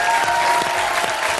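Brief burst of audience applause at a French TV show taping, dense steady clapping from a studio crowd, fairly loud and close, with a faint voice underneath.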